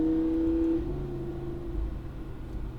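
A Lamborghini Huracan on a race circuit holds third gear as its engine note rises and falls, a fairly close, steady mechanical drone with no talking.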